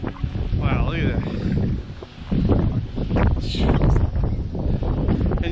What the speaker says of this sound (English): And yes, the wind came back, by the way.